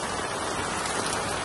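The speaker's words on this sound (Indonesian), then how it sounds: "hujan lebat guys, hujan lebat" Heavy rain pours at a campsite at night as a steady, dense, even hiss of drops hitting surfaces, heard alone without voices.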